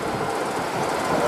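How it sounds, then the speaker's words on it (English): Electric towing locomotives at a canal lock hauling a large ship, a steady loud broadband rumble with faint rail clatter running throughout. "You can see all the trains are going to pick up the big boat."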